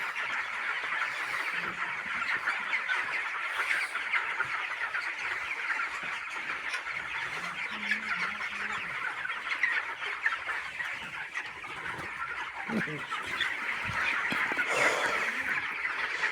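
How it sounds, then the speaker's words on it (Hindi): Chickens and roosters on a poultry farm cluck and call continuously in a dense flock chorus, a steady near-and-far murmur of fowl sounds with occasional louder calls standing out, and no talking over it. "ये देखना कितना बड़ा मुर्गा है।"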